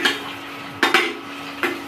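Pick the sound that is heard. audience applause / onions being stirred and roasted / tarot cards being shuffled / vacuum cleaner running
onions being stirred and roasted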